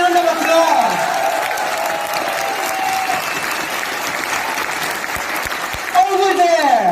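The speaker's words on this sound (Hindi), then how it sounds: "With a big round of applause." An audience at a health-product presentation claps in sustained applause from start to finish, with voices talking over the clapping and a brief swell near the end.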